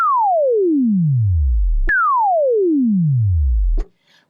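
Logic ES2 synth tone with its pitch swept by a sawtooth LFO: two long smooth downward glides from high to low, each snapping back to the top, loud and alone before a short pause.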